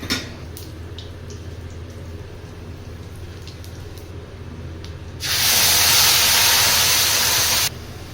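Rice dropped into hot cow ghee for jeera rice bursts into a loud, hissing sizzle partway through, holding strong for a couple of seconds before easing back to a low background.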